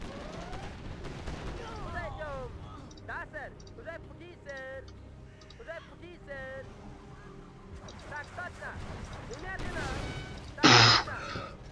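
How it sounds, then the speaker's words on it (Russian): Gunfire from the real-time strategy game Command & Conquer: Generals crackles in short scattered bursts amid game effects, with someone talking over it, ending in a sharp loud blast near the end. "Пару выстрелов сделал, и все."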